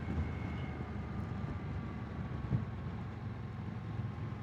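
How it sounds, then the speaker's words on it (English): Steady, gusty wind buffeting the microphone while riding a Honda NC750X motorcycle at about 30 mph, a continuous low rumble of wind roar mixed with engine and road noise, with no talking. "Yeah, the wind has got up. It's quite gusty."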